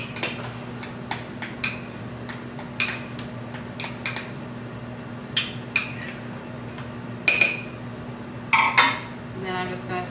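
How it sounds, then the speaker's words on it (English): Chopped rosemary is stirred into a mushroom flatbread topping, making a series of scattered clinks and scrapes of utensil against bowl over a quiet background hum, with a few sharper taps near the end. "I've got about a tablespoon, give or take, of my chopped rosemary, and I'm going to go ahead and add that in. Just mix it together."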